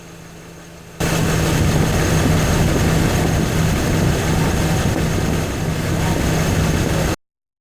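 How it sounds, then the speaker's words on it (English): Car engine idling roughly on a test stand, a steady loud rumbling drone with strong vibration running unbroken for several seconds before cutting off abruptly. "can notice the noise and the high vibration of the stand bar due to the poor idling of the engine"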